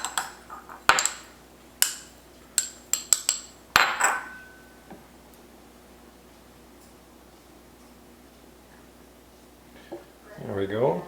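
Scraping ingredients out of a container into a blender while making raspberry coconut ice cream: a burst of sharp clinks and scrapes in the first four seconds, then near silence, with a brief louder rustle at the end.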